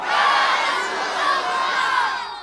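A large crowd at an Eid-e-Miladunnabi religious gathering shouts a slogan in unison, a loud sustained mass of voices that swells and holds for a couple of seconds before fading slightly.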